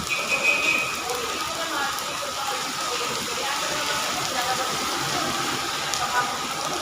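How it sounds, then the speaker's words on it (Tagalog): Heavy rain pours down in a steady, dense hiss throughout, with faint voices somewhere in the background, while a container is being unloaded. "Lakas na ulan, no?"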